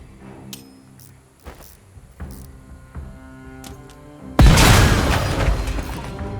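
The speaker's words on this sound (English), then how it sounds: "we're gonna throw a grenade that's gonna basically hit all" Grenade blast in the game Last Train Home: after scattered pings and small game effects, a sudden loud, close boom erupts into a long rumbling roar that fades slowly, with no voices.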